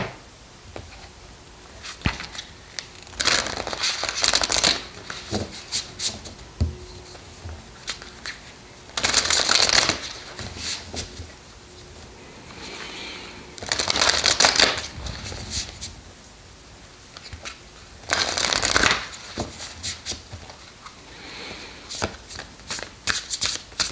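Playing cards shuffled in several distinct bursts, each a loud riffling rush lasting a second or two, separated by quieter handling and faint rustles.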